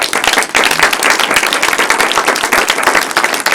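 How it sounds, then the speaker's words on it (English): A conference audience at a sustainable finance event gives the organizers a loud, continuous round of applause, many hands clapping densely and close for a few seconds. "Big round of applause."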